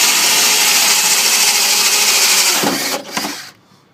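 A power drill bores a hole through a wooden door while a lock is being installed, a loud steady whine for several seconds that falters and cuts off, followed by near silence.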